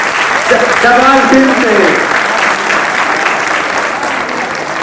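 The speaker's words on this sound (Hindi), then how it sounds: "जोरदार तालियों से स्वागत" Audience applause greets performers at a foundation-day stage play in Uttarakhand, a loud, steady clatter of clapping that holds throughout while someone speaks over it.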